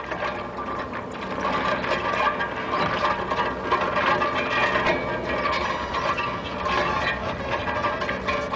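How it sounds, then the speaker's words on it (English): A Rasa gravel crusher runs idle on loose, uncompressed gravel, giving a steady, dense mechanical clatter and grinding rattle that carries on continuously at moderate level with no voices. "Because this gravel is not compressed, the machine runs idle,"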